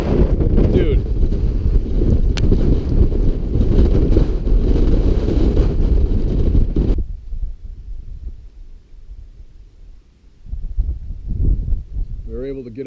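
Strong wind buffets the microphone on an exposed mountain at Dolly Sods, West Virginia, a loud rumbling roar that cuts out abruptly midway, leaving quieter gusts and a brief renewed buffet near the end.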